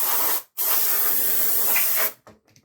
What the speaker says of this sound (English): I've got a little can of compressed air.